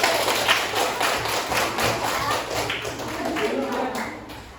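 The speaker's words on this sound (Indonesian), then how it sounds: "kasih tepuk tangan untuk kelompok 1." A class claps for a student group, a continuous spread of hand claps from many people that holds steady for several seconds, with some voices mixed in underneath.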